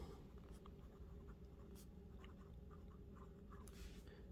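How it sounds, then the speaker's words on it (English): A Pelikan M200 Golden Beryl fountain pen with an extra fine nib scratches lightly across paper, giving soft, faint strokes and taps over a low steady background hum. "this is my first writing test with the extra fine nib and the Pelikan M200"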